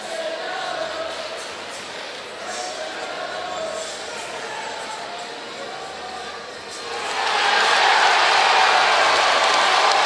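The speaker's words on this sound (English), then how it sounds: "So the crowd is cheering because another foul has been added on." Crowd noise at a 2017 Valparaiso vs Oakland college basketball game after a foul is called, a steady arena murmur that swells into a louder, sustained cheer in the last few seconds.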